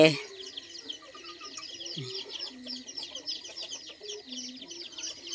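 Chickens cluck and chatter close by in short, uneven bursts, with faint birdsong and a steady high hum in the background.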